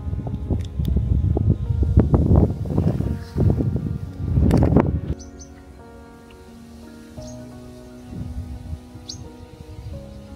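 Strong gusty wind at a coastal wetland park in Hengqin, Zhuhai, buffets loudly in rough bursts for the first half before easing to a calmer, quieter stretch where faint bird chirps come through.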